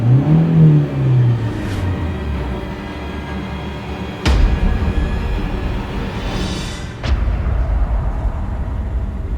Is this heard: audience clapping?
no